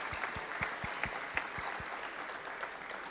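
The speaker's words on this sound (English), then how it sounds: "please join me in thanking the panel with the traditional round of applause as we close" Applause from an audience closing a sustainable wine roundtable panel, an even, steady patter of clapping that continues without a break, with a few sharper claps standing out.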